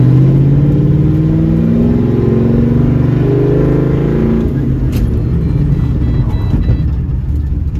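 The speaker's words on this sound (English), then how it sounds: "If we rip the e-brake with a little bit of speed, I'm just curious as to what will happen" A 2004 Pontiac GTO drives at speed with its engine droning loudly and close, then the e-brake is pulled and the engine note drops away into quieter rolling and rumbling noise.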